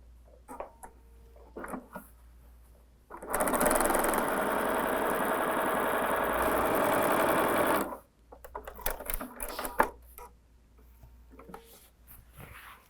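A sewing machine runs a quarter-inch seam on a tote bag, one loud steady burst of fast whirring stitching lasting about five seconds, framed by quiet handling noises before and after.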